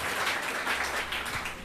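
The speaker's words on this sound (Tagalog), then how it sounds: "Palakpak po natin ating Panginoon." A church congregation applauds steadily, a soft, distant wash of many hands clapping at once.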